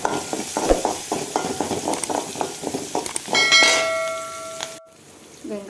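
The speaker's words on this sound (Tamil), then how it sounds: "சின்ன வெங்காயம் நறுக்கி வச்சு கொஞ்சம் ஆட் பண்ணிக்கிறேன்." Chopped small shallots stir into hot tempering oil with curry leaves and round dried chillies for drumstick koottu. Rhythmic scraping stirs ride over a sizzle, then a ringing metallic clang sounds near the end, close, with no one speaking.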